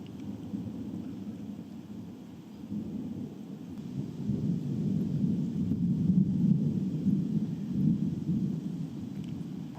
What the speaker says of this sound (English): I have never gotten tired of thunder, and I don't think I ever will.